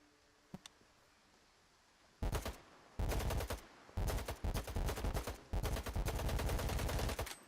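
Bursts of automatic gunfire in S.T.A.L.K.E.R. 2 on PS5, a couple of faint clicks first, then several loud rapid volleys separated by short pauses, close and dominant with no talking over them.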